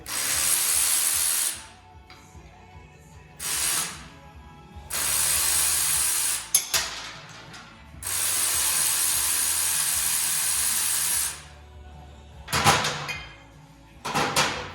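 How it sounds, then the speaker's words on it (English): A ratchet takes the exhaust flange nuts and a bolt off a Twin Cam Dyna motorcycle, fitting a Pro Pipe exhaust. Several sustained, loud whirring bursts come close up, broken by short pauses and clanks. "Then we're going to take these 2 nuts and 1 bolt off to get this rear support out of the way."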